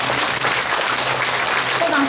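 An audience at a Taiwan Railway depot opening ceremony applauds, a dense steady clapping throughout with a voice faintly underneath.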